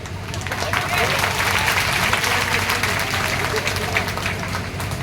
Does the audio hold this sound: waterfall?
no